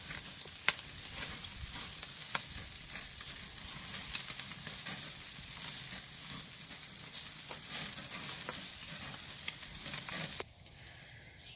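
Bacon-wrapped rabbit loins on a hot grill, giving a steady close sizzle with scattered fat pops and crackles that continues almost to the end, then drops off abruptly.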